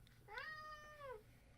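A cat gives one drawn-out, rising-then-falling meow, close and fairly clear, over a quiet background.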